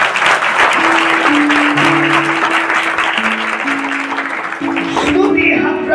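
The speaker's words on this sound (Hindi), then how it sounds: "ताली बजाकर परमेश्वर को बधाई दीजिए।" Congregation clapping along during worship at a church service, steady dense applause with a sung melody and music carrying over it throughout.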